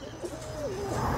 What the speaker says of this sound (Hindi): देखो माशाल्लाह तैयार कबूतर